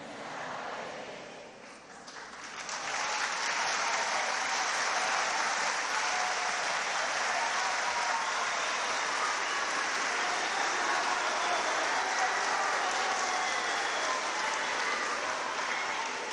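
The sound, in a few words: audience applause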